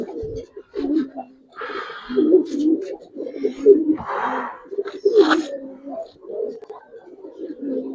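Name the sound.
released Giribaz pigeons flapping and cooing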